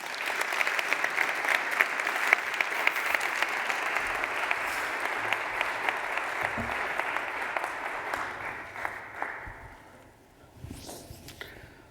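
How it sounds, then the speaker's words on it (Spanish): Loud, dense applause from an awards ceremony audience after an introduction at a foundation prize event, holding steady for about eight seconds before thinning out and fading to scattered claps. "Por favor, un fuerte aplauso."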